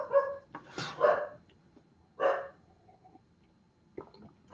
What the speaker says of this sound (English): Elliot, I know the dog's barking.